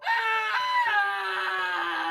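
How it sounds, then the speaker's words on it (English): A grown man gives a piercing, high-pitched scream in a horror story, one sustained wailing howl that is loud and close. "A piercing howl, several octaves above what one would expect from a grown man."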